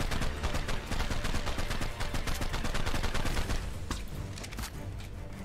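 Rapid bursts of gunfire in Ark Survival Evolved, dense repeated shots in quick succession, loud and close, thinning into a few scattered louder cracks near the end.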